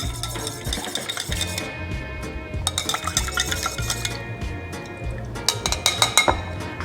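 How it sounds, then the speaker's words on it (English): Honey swirled in a metal cocktail shaker for a gin cocktail, giving a steady run of close metallic stirring, scraping and light clinks that turn into brisker clinking near the end, with no voices. "I'm just going to swirl that a few times and melt it."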